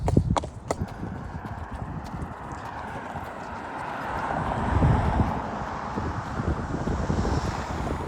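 Horse hooves clip-clop in a steady walking rhythm on a paved bike path near a highway, close and clear. Wind rushes over the microphone throughout, with no talk.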